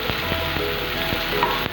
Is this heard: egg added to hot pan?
yes